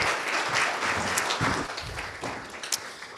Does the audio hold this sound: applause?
yes